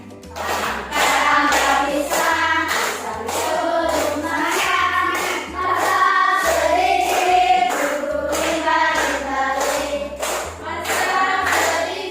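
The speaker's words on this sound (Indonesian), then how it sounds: "Sambil tepuk tangan" A school class sings together in unison while clapping their hands in a steady rhythm, the claps sitting under loud, continuous children's singing.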